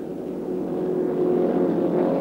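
A steady, droning racing motorboat engine runs at high speed during a Roslagsloppet race, loud and continuous with a constant hum and no voices.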